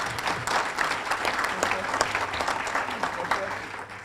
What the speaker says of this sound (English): you get applause for these two great guys